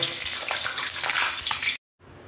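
Loud, steady sizzling of molmol (parrotfish) frying in a pan, crackling continuously before cutting off abruptly into brief silence and then a quieter hiss.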